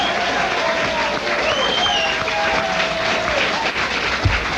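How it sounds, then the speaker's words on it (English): A studio audience breaks into sustained, loud applause, a dense wash of clapping with a few whistles cutting through, continuing without a break for several seconds. "doesn't you think he deserves a lot of applause?"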